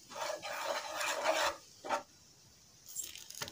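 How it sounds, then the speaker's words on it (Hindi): A spoon scrapes and rasps as spices, chilli and turmeric powder are mixed into boiled eggs, with a long stirring stretch, a short second scrape, then a quieter pause and a little more clatter. "इसे अच्छे से मिक्स कर लेंगे।"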